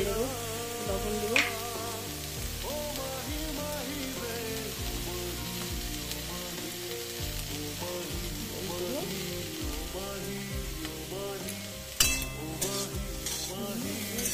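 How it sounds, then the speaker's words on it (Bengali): Bethe saag spinach frying in oil with salt and turmeric, a continuous soft sizzle running under background music, with a brief utensil clink near the end. "লবণ হলদে ভেজে নেব"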